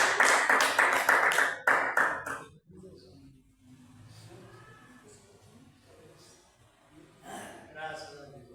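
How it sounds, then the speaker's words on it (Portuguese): A church congregation claps in brisk rhythmic beats for a couple of seconds, fairly close, then stops, leaving quiet murmuring and a low voice speaking in the hall. "As palmas para Jesus, nosso Deus."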